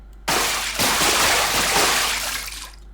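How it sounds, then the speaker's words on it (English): Water splashing in a video game as a character steps into it, a loud continuous wash of splashy noise starting abruptly and fading at the end, with no talking. "I'm stepping on the water, and that's the only time I'm getting these nice kind of water effects"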